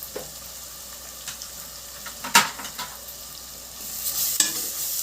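Ginger garlic paste frying with onions in a pan for a boti curry, giving a soft, low sizzle with a few sharp spoon scrapes and knocks, the sizzle swelling slightly toward the end.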